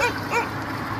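A dog on a street in Mokattam, Cairo, gives a couple of short yelping barks early on, mid-distance, over steady outdoor background noise.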